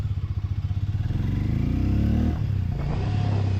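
A Hero Mavrick 440 motorcycle engine idles with a loping thump, then revs up in a rising surge that peaks and falls back to a steady idle, heard close and alone.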